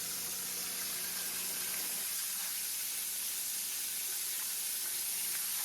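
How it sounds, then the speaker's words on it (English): Deer steak pieces frying in a pan of oil, a dense constant sizzling hiss that stays loud and close throughout, with a low hum dropping out partway. "I'm going to keep frying these up"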